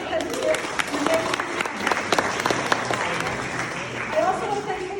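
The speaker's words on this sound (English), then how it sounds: "Jess really deserves an applause" An audience at an art gallery talk claps steadily at moderate volume. The crowd murmurs and a voice speaks faintly underneath the applause.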